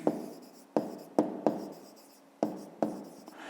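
Chalk or a marker writes on a board during a math lesson, making about six distinct tapping strokes, each trailing off in a short scratch, close and clear with no talk.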